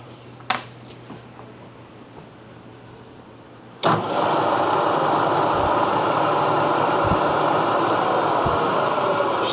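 A machine running a slitting saw arbor repair at around 1,000 to 1,200 RPM. After a few seconds of near quiet, it starts abruptly with a loud, steady broadband whir that continues evenly to the end.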